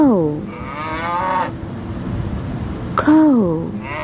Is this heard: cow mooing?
yes